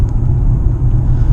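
A car coming up from behind to overtake on an open road, heard as a loud, steady low rumble of engine and tyre noise from inside a Mitsubishi Outlander PHEV, with no talk.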